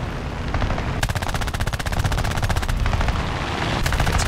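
Machine gun fire from a Ki-10-I biplane in War Thunder, rapid evenly spaced shots in two long bursts over a steady engine drone, loud and close, with no talking.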